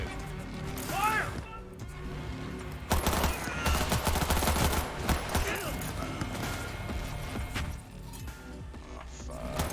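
Rapid video game gunfire in a cyberpunk shooter, bursts of automatic shots and impacts rattling on for several seconds, loud and dense, with a voice talking over the fighting.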